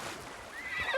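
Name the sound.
horse neighing in video game Assassin's Creed Shadows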